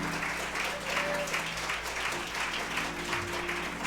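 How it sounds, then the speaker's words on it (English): Applause for a planning committee at an annual lecture series event, steady and moderately loud throughout with a low hum and faint voices underneath. "Help me applaud and celebrate our planning committee"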